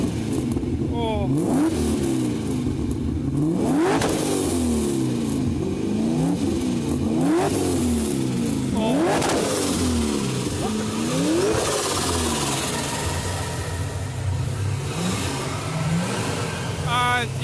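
Chevy V8 engines revving hard against the rev limiter, repeated rising bursts over a steady loud rumble through the whole stretch, with people talking and reacting nearby.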